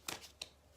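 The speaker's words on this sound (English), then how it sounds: "I've been shuffling the Starman Tarot deck" Two quick papery riffles of a Starman tarot deck, a David Bowie–inspired set of cards, being shuffled close by, faint and brief with a short pause between bursts.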